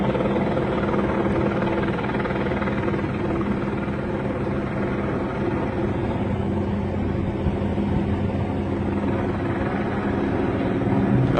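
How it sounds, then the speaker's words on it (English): A news helicopter circles and banks overhead during a police encounter, its steady rotor drone filling the air at an even, fairly loud level throughout. "There's the helicopter banking again."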